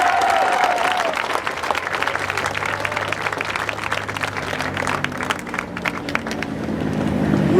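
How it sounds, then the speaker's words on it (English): A rally crowd applauds as a Party for Socialism and Liberation speaker comes up, dense continuous clapping from many people with light cheering, steady from start to finish. "give her a round of applause, y'all"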